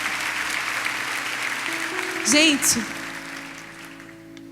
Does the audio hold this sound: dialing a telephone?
no